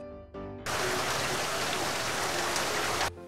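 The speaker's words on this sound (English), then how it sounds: "it sounds like hard rain" Hard rain suddenly pours down in a dense, steady roar, then stops just as abruptly after a few seconds.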